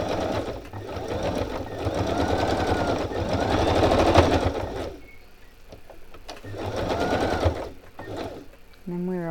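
A sewing machine stitches around an image in bursts, its rapid mechanical whirring running for several seconds, pausing, then starting again before a short final run.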